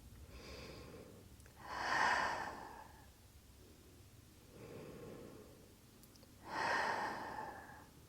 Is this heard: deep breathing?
yes